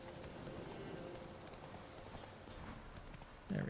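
Quiet, fast hoof clip-clops from a horse running in The Witcher 3: Wild Hunt, a soft continuous patter with a brief louder thump at the end.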